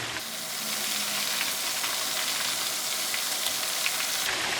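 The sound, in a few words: flower crab frying in a wok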